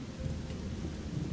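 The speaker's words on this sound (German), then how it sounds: "So, warum regnet das hier die ganze Zeit?" Steady rain falls in Gothic 2 with the Odyssee mod, a constant soft hiss of rain with a low thunder-like rumble beneath it. It stays quiet and even throughout, with no voices.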